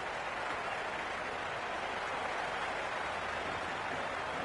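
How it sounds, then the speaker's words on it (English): Crowd in the stands at a T20 cricket match between Peshawar Zalmi and Chennai Super Kings, a dense steady roar of buzzing and cheering that stays even and unbroken throughout. "There's a buzz, a real buzz coming from the stands"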